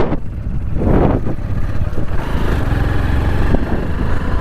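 110cc motorcycle labouring up a steep hill road, its engine drone loud and constant with a strained, rough low rumble and wind noise throughout.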